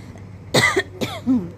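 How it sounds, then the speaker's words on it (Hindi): Two sharp coughs close to the microphone, followed by a short throat-clearing sound, with no speech. "मुझे जो खांसी हो रही है"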